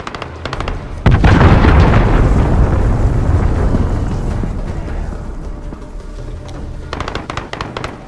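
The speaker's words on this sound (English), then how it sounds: "Allied cruise missile away." Cruise missile strike in Call of Duty Modern Warfare: a sudden heavy blast that rolls into a long rumbling decay, with scattered gunfire crackling before and after.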